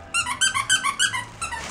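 Rubber dog toy squeaked in a burst of about seven sharp squeaks in quick rhythm, near and fairly loud, with a brief gap before a last pair, among pugs playing with holiday toys.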